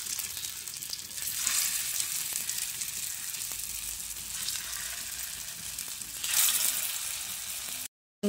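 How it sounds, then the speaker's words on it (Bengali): Soybean muitha dumplings fry in hot oil with a continuous close sizzle that swells in bursts as pieces are turned, and a brief cutout near the end, without any talk. "ওই একইভাবে বাকি মুইঠাগুলো ভেজে নিচ্ছি"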